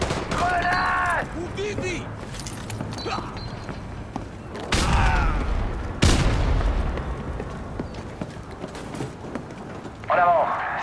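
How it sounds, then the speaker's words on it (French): A grenade exploding in Call of Duty Modern Warfare 2 Remastered, two heavy booms amid mechanical clatter and gunfire, with shouted voices in a dense, loud game battle mix. "Grenade!"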